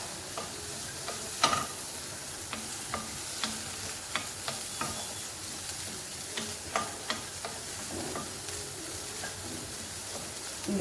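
Finely chopped onion frying in a pan, a soft steady sizzle with scattered scraping and tapping from stirring, fairly quiet and close, with no voices.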